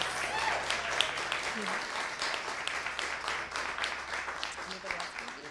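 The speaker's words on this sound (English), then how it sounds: "Can we have a round of applause for Cherry, please?" A room of people claps steadily for several seconds, the applause gradually thinning out, with a few voices underneath.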